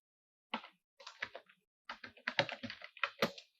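Bursts of typing on a computer keyboard while entering a course name, quick clusters of close, crisp key taps separated by short pauses in a quiet room.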